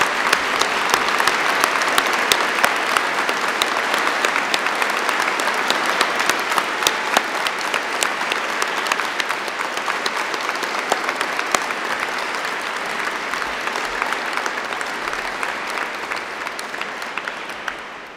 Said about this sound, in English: let's start today by giving them a huge round of applause